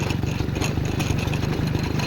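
A TVS 50 moped engine runs steadily with a low, rapid putter, close and fairly loud, on a bumpy road toward Yercaud.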